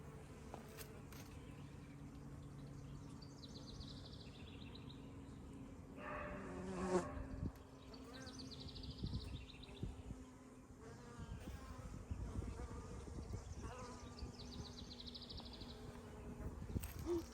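Honey bees buzz steadily around a freshly installed nuc hive outdoors, a continuous droning hum with individual bees passing close by now and then.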